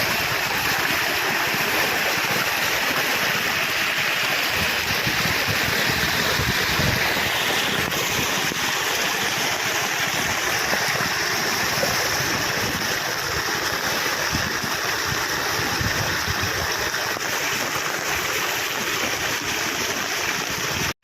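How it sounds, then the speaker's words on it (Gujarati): Floodwater from an overflowing river pours across a road during heavy monsoon rain, a steady broadband roaring rush close by that never lets up and carries no speech. "આખી નદી ફરે ગઈ રોડમાં"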